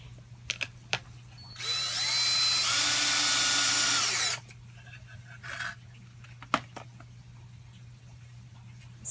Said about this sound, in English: Now I'm using a circular saw and making a mark on